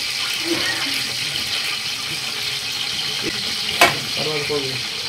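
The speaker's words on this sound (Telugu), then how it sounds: "ఇవి మొత్తం ఉల్లిపాయలు మిరపకాయలు అన్ని కూడా బాగా వేగిన వరకు కూడా మనము ఈ విధంగానే వేసుకోవాల్సిన అవసరం అయితే ఉంటుంది" Onions and chillies frying in a pan for a chicken recipe, with a steady sizzle and hiss throughout, plus a brief clatter of stirring near the end.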